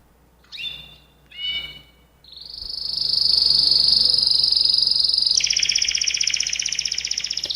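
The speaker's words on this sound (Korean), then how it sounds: "저 새가 카나리아 새입니다." A canary, recorded at home, gives two short chirps and then launches into a loud, sustained rolling trill that shifts to a brighter, buzzier warble and carries on to the end.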